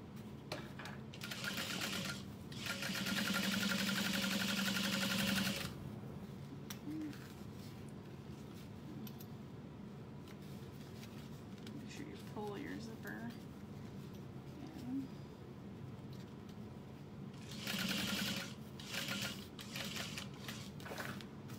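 A sewing machine stitching through number 5 zipper tape, running in two bursts of rapid mechanical whirring with a pause between them, and a person talks in the quiet gap while birds coo faintly in the background.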